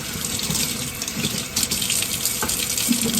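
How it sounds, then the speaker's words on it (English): Running tap water pours steadily into a sink while a juicer part is rinsed, a loud, close, continuous splash with slight shifts as the part moves under the stream. "I'm just going to go ahead and rinse that off."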